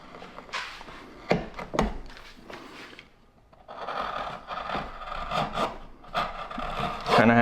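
Hand tools carving a wooden pumpkin, with bursts of scraping, rasping cuts and short knocks, some sharp and close, coming in uneven strokes with brief pauses between them.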